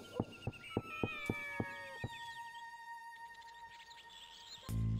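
A cat in Shenmue meows in a drawn-out, wavering cry over a series of sharp rhythmic clicks and a faint background tone, ending in a brief loud burst.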